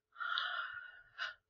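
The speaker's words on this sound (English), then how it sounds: "Oh, freaking yawn." A single yawn opens with a drawn-out breathy rise and trails into a short second exhale, close to the microphone against near silence.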